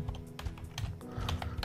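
Rapid, uneven keystrokes on a computer keyboard, close and fairly steady, with clustered clicks and short pauses, and no voices.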